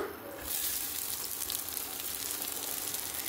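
Chopped onions dropped into hot oil with cloves, cardamom and cinnamon for prawn malaikari, bursting into a bright, steady crackling sizzle that continues evenly up close, with no talking.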